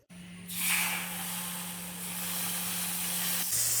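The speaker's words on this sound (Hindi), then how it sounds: "अब हम इसमें डालेंगे दूध।" Milk poured into hot ghee and roasted wheat flour for atta barfi sets off a sudden loud, sustained hiss and sizzle that holds steady over a faint background hum, nothing spoken.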